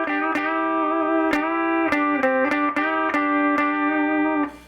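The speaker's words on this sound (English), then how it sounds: "Sounds really nice when you add that distortion" A Gibson Les Paul electric guitar plays a blues lick through distortion, sustained saturated notes with several quick picked changes and bends, loud and close, ending with a short decay.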